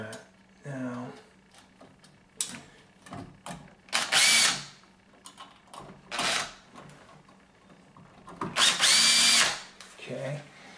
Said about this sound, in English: let me go ahead and get my drill bit on